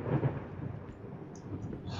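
Distant thunder rumbles low and faint in the horror video game Layers of Fear, a soft rolling swell with a few quiet higher tones on top.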